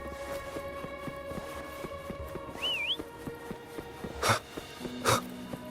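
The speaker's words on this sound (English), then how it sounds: "Try whistling." A short rising-and-falling whistle calls a horse in the video game Wuthering Waves, heard once amid steady game ambience and clicks, followed by two sharp louder bursts resembling snorts.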